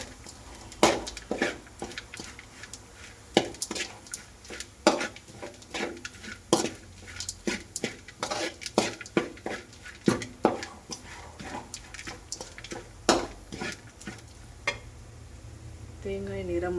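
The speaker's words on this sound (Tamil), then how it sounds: "தேங்காய் துருவல் சேர்த்துட்டு சும்மா மீடியம் ஃப்ளேமில் வச்சு நல்லா அடி பிடிக்காமல் கிளறிட்டே இருங்க" Grated coconut stirred in a pan over a medium flame for karamani sundal, with repeated sharp scrapes and taps of a spoon against metal in an irregular rhythm, fairly close, over a low background hum.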